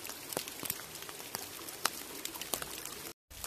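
Rain patters steadily through the Irati forest beside a small stream, a soft, dense hiss of drops with scattered sharper taps, faint and continuous apart from a brief dropout.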